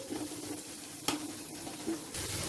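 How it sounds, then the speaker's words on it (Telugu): Tomato pieces frying with ginger garlic paste in a pan for chicken fry piece biryani, giving an even close sizzle with a single sharp stirring knock partway through. "ఇందులో ఒక రెండు పెద్ద టమాటోల్ని ఇలా ముక్కలుగా కట్ చేసి ఇందులో వేయాలి ఈ టమాటో ముక్కల్ని కొద్దిగా మగ్గనివ్వాలి"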